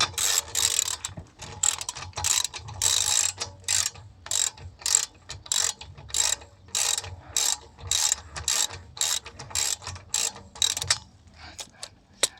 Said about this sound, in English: I'm going to use the ratchet